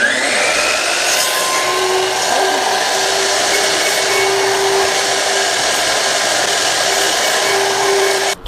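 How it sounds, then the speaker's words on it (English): Circular saw set to 12 mm depth mortising wooden cross members, a loud steady whining cut running continuously for about eight seconds before stopping abruptly at the end. "I've set the depth of my saw to 12 millimeters."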